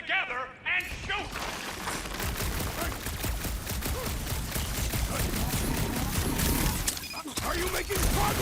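Blaster fire crackles in the Guardians of the Galaxy video game as dense, continuous volleys of shots over a busy battle din, loud and close, with speech mixed in.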